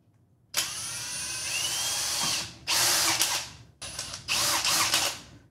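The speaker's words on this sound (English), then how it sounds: "So I'm going to go ahead and drill these out." Power drill boring out knockouts on a plastic outlet receptacle, three loud whirring bursts separated by brief pauses, close up and alone.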